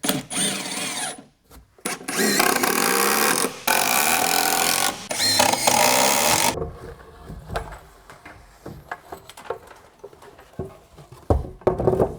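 A power drill drives 4-inch screws into wooden stair framing in loud whirring bursts with short pauses between them, followed by quieter knocks and handling noises.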